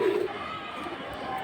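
A high-flying pigeon coos briefly and low at the start amid a steady background of crowd chatter and outdoor noise, with people talking nearby.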